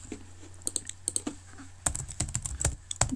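Close keys clacking on a computer keyboard in uneven bursts, sparse at first and then a quicker, denser run of typing, with no talking.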